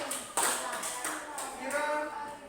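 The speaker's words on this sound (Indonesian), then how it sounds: "Oke, tepuk tangan untuk siapa namanya?" A classroom of students claps briefly for a classmate, a short burst of hand claps with a sharp onset, overlapped by murmuring voices.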